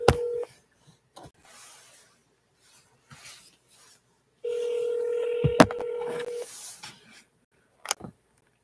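A telephone number being dialed, with a dial tone, a burst of touch-tone beeps and a longer tone, plus sparse handling clicks in a quiet room.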